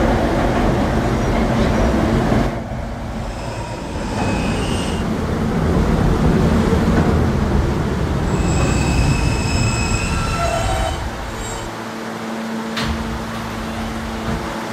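An R160A subway train on the K line in a Roblox game rumbling steadily along the track, with high wheel squeals and brief tonal whines rising over the rolling noise.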